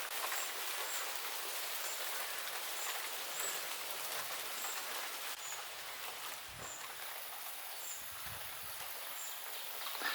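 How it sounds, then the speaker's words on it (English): Heavy torrential rain pours steadily in a small Wisconsin town after a tornado, a dense, continuous hiss of drops on surfaces with a few faint distant chirps. "And more thunderstorms and rain."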